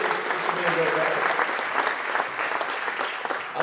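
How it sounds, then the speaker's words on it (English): Spectators in a basketball gym give a new athletic director a round of applause, dense steady clapping from a crowd throughout, with a voice faintly audible beneath. "We give him a round of applause too"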